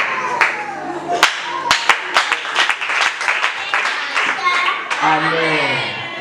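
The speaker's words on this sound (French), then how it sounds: "Est-ce qu'on peut acclamer pour cette personne?" Audience applause at a Christian church children's Bible-verse event in Brazzaville: scattered, uneven hand claps in bursts, fairly close, with children's voices and speech mixed in.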